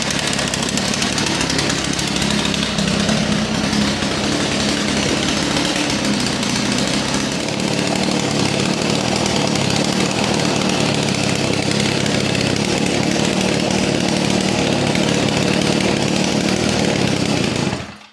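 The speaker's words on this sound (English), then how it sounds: "It's got a nice rumble to it. I mean, it sounds like a dirt bike." A 49cc two-stroke Hover HeartS DB002 minibike engine idles loudly and close, a dense, raspy buzz holding steady for the whole stretch before cutting off at the end.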